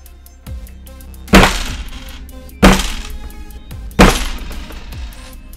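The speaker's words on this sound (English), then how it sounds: "that's me banging my head on the desk" A head banging down onto a desk, three heavy thuds spaced about 1.3 seconds apart, each with a sharp loud impact and a brief rattling decay over a quiet background hum.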